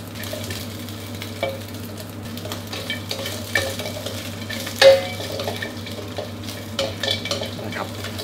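Crispy pork browning in a wok, with a steady close sizzle of hot oil under a low hum, and occasional scrapes and louder clatters as the pieces are stirred. No one speaks.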